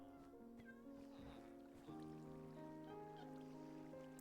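A cat meows in the Minecraft video game, giving a sustained, tonal in-game mew that stays steady and clear, with a second call rising midway, alone with no talk.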